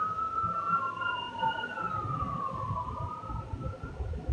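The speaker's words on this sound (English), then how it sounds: "Air ambulance is passing." An air ambulance siren wails overhead, its rising and falling tone sweeping slowly across a loud background rumble as the aircraft passes at moderate distance.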